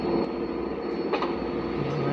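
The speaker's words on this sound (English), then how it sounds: "Follow that train!" In GTA San Andreas, a train rumbles past loudly and continuously, a dense, close rolling roar that holds throughout.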